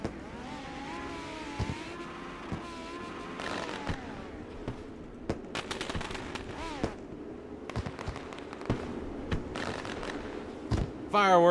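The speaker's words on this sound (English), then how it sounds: "Fireworks are going off." Fireworks pop and crackle in scattered bursts over the rumble of midget race cars warming up at Knoxville Speedway, with an announcer talking throughout.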